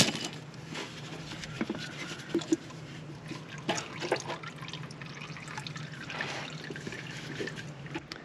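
Hydraulic transmission fluid from a Kioti CK2610 HST tractor drains steadily into a pan, a soft continuous trickle with a few faint drips and clinks, no talk.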